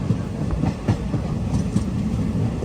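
Silchar to Agartala Express rolling along near Karimganj by the Bangladesh border, a continuous rumbling rattle with soft clickety-clack wheel beats, heard from inside the carriage.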